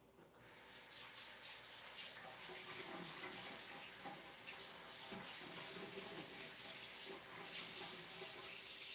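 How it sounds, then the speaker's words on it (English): Hands are washed under a running kitchen tap: a steady, close rush of water with faint rubbing and splashing changes throughout, and no voices. "I'm gonna wash my hands real quick."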